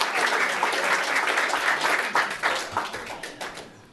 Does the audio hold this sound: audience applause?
yes